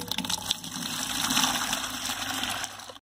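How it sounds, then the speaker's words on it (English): Water pours from one bucket through a cloth filter into another, a steady gushing splash lasting a few seconds before stopping abruptly. "Let's transfer it into another bucket"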